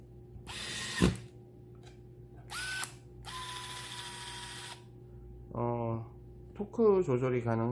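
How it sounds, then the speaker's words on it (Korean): An electric screwdriver whirs in several short bursts while driving screws into a Galaxy Tab S3 9.7 during display assembly, with pauses between runs and a person talking near the end. "나사가 너무 많아서 전동 드라이버를 좀 쓰겠습니다"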